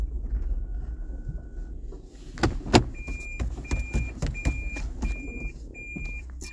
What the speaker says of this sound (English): Here I am now, just gonna park my car